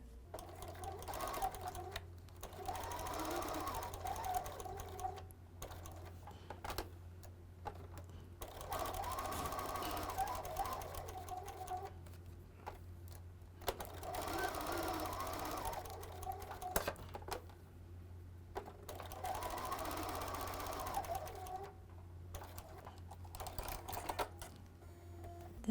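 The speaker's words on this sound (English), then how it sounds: "So let's sew 1/4 inch all the way around." Sewing machine stitching a quarter-inch seam around a pieced fabric table runner, running in four steady bursts of rapid, even stitching separated by short pauses, quiet and close with no talk.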